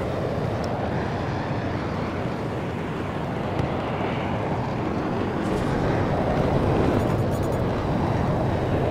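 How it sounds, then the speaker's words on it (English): Helicopters flying in the Battlefield 2042 video game, a steady broadband rotor-and-engine roar that stays loud and constant throughout with no talk. "I see helicopters flying behind."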